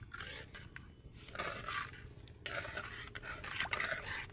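Semolina stirred into water in a pan with a spoon or spatula, quiet repeated scraping and wet swishing strokes in an uneven rhythm, close but faint.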